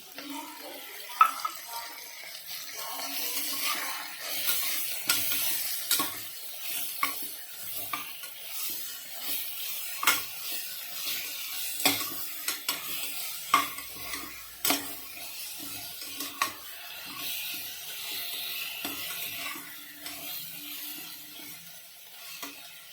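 Onions, tomatoes and ginger garlic paste sauté in a pan for coconut milk rice, a low sizzle broken by frequent spoon scrapes and clinks against the vessel in an irregular stirring rhythm over about twenty seconds.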